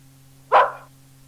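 A single dog bark in a children's audiobook, a dog being a nuisance in a home kitchen; one short, sharp, fairly close bark standing alone over a low steady hum.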